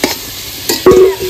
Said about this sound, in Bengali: আলুগুলো ভেজে নিয়েছি